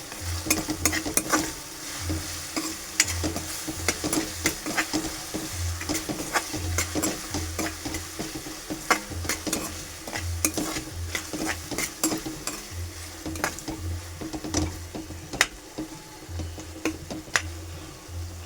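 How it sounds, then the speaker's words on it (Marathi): Onion and tomato with a pinch of salt cook in a pan for kanda batata poha. A spoon scrapes through them in a steady repeating rhythm over a soft continuous sizzle, close by, with no speech. "आपला कांदा टोमॅटो शिजेल"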